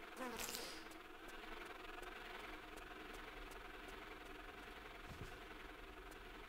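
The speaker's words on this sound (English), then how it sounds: "fucking more mosquitoes" Mosquitoes whine in Tomb Raider III, a continuous thin buzzing drone that stays steady and fairly close throughout, with a brief louder swell near the start and no speech.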